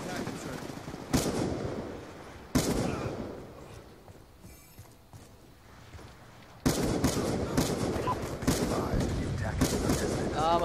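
Loud, close bursts of automatic gunfire in the shooter Call of Duty Black Ops 2, rapid rattling volleys broken by a quieter lull midway, then sustained firing to the end.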